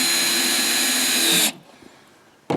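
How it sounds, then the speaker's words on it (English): A power drill drives screws into a large wooden rabbit nest box, a steady loud whir lasting about a second and a half before stopping, then a brief restart at the end. "We're just going to flush it up and screw it down to make it good and solid."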